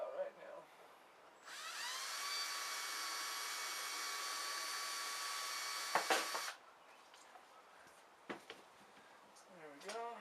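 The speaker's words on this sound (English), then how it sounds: "I'll drill it out right now." A power drill whirs steadily for about five seconds while drilling out a hole during a servo install on a Sky Hunter model plane build, followed by a few clicks and handling noises afterward.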